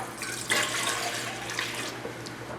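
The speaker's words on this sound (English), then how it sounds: "So I'm going to pour that into my stand mixer bowl, your 2 cups of warmed milk" Two cups of warmed milk pour into a stand mixer bowl for homemade bread, a steady, soft liquid splashing and trickling in a kitchen, with faint clinks along the way.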